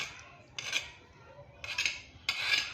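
A spoon scrapes coarse ground garlic chutney (kharda) into a container in three short, close scraping bursts, with quiet pauses between them.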